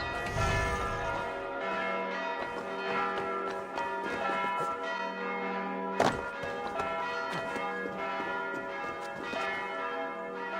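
Resonant church bell tolls sound repeatedly in Assassin's Creed Valhalla, with a sharp thunk-like strike near the middle, steady and prominent with no voices.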